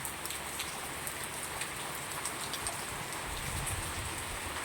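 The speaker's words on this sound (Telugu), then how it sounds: "ఈ రోజుకి నాలుగు రోజులు పెట్టి వర్షం కురుస్తుంది" Steady rain pours down in a dense, even hiss, with scattered drops ticking nearby throughout.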